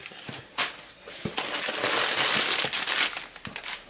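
Close crinkling and rustling of paper packaging being pulled open on a manga Kickstarter parcel, with a few sharper crackles among the continuous rustle.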